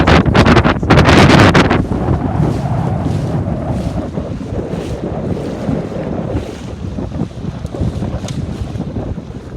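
Strong wind buffets the microphone aboard a Sabot sailboat during a national regatta, with a loud rumbling gust at the start, then a steady roar of wind and water around the small boat.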